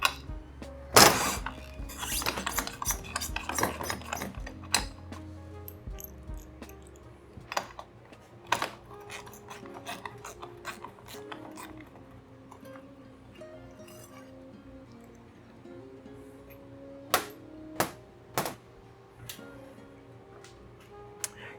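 A bypass valve is worked out of a 2JZ engine oil pump, making scattered small metallic clicks and light clinks, a few sharper, close up and without speech.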